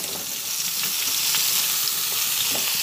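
Vegetables for shukto frying in a pan, a dense steady sizzle with light stirring clicks, close and uninterrupted.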